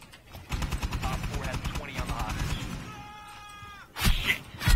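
Rapid automatic gunfire in Rainbow Six Siege rattles in a fast, steady rhythm for a few seconds, then a brief pause before louder close shots burst out at the end.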